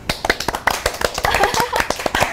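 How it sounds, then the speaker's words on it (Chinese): Hand clapping during a nutrition livestream: a quick, fairly even run of sharp, close claps, roughly a dozen over a couple of seconds. "棒，拍手！"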